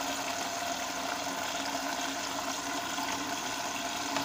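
An Arçelik 6103 H washing machine in test mode draws water into its detergent drawer, a steady, fairly loud rushing hum of inflowing water and valve noise with no voices.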